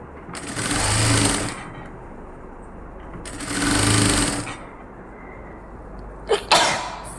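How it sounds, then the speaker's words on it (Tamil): An electric sewing machine stitching along the edge of a nighty hem, running in two steady whirring bursts of about a second each, with quiet handling clicks near the end. "அப்படியே நீட்டாக ஓரத்தில் கொண்டுடுவாங்க தைச்சு"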